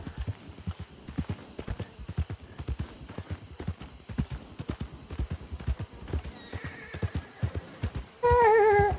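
In the video game Red Dead Redemption 2, a horse's hooves clip-clop in a quick, steady rhythm, close and clear, for several seconds. A loud whinny at the very end then rises above the hoofbeats.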